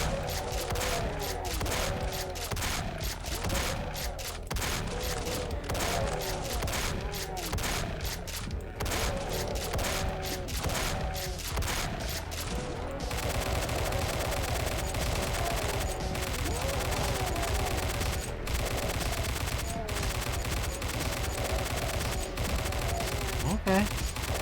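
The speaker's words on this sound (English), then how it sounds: "You can really kill a bunch of dudes with a shotgun," Continuous dense gunfire and repeated shotgun blasts in the classic shooter Doom fill a long stretch of fast, chaotic combat, loud and relentless throughout with no pauses.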